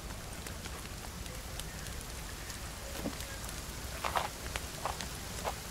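Soft, continuous rain patters down in the survival game The Forest, a faint hiss dotted with scattered droplet taps.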